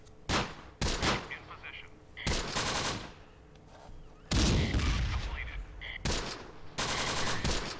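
Machine gun fire in the video game Close Combat, in a desert stronghold battle: repeated loud bursts of automatic fire separated by short pauses, with scattered single shots and distant battle noise between them.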